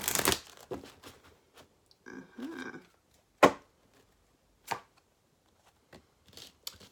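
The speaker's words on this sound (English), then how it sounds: "I'm going to give them a little bit of a big girl shuffle actually." A deck of Wisdom of the Oracle cards is shuffled by hand at close range. The sound is made of quiet, scattered riffles and slaps, with a few sharper card snaps separated by short pauses.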